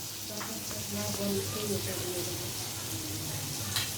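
Butter melting in a hot kadai gives a faint, steady, soft sizzle, heard quietly and alone.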